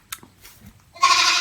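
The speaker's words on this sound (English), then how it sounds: "There is our new goat." A goat gives a short bleat up close, followed by a burst of rustling noise.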